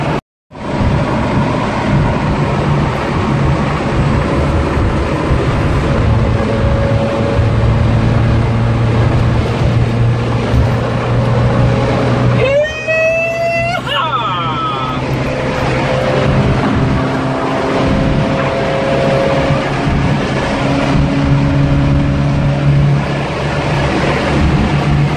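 Volvo Amazon 122s car engine accelerating, a loud steady engine drone with low tones holding throughout, a brief sweeping high whine in the middle, no talk.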